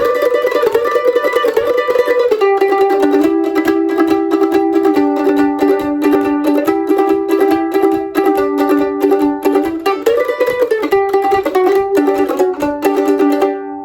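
B part of a bluegrass tune played on a banjo, a rapid continuous roll of bright plucked notes with a steady driving rhythm, loud and close with no talking.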